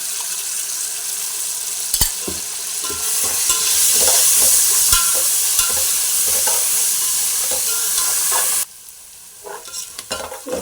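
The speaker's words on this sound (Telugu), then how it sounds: "ఇట్లా అల్లం వెల్లిపాయ పేస్ట్ మంచిగా వేగినాక" Ginger garlic paste sizzles and fries in a pan for Telangana-style bagara rice and paneer curry, a steady loud crackle with stirring scrapes and clinks throughout, dropping abruptly to a quieter sizzle near the end.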